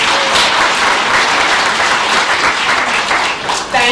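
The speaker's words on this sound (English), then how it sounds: "Give Randy a good round of applause." Crowd at a senior center scam-awareness presentation gives a loud, dense round of applause, many hands clapping steadily and close, tapering slightly at the end.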